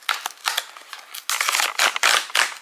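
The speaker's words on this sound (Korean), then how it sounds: "이것도 뜯어볼게요." A cosmetics package, a pink essence box, is torn and cut open up close, a string of sharp crisp snips and crinkles in quick irregular bursts; no talking.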